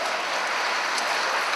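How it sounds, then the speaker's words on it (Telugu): A crowd at a convention celebration of a Telugu association claps together after a dance performance by students of a dance school, a dense, even wash of applause filling the short span. "ఒకసారి మీరు చప్పట్లు కొట్టొచ్చు గట్టిగా."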